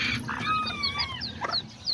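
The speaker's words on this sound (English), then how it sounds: "See, like this chicken right here." A brooding serama hen carrying a little chick on her back clucks softly and nearby. Several short, chirpy clucks and warbles come in quick succession against a quiet background.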